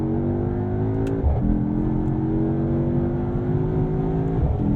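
A sports sedan, an AMG GT63 S or a CT5 Blackwing, pulls hard through the gears toward redline, with rising engine tones and quick shifts, loud and steady from inside the cabin, no talk.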